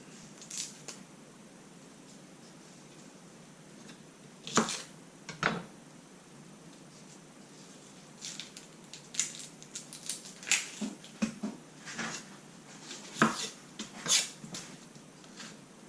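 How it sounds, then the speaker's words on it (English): Knife chopping red onion for tacos, a handful of sharp irregular cuts on a board, clustered mid-clip and near the end over a steady low background hiss. "let me chop up some red onion to put on top"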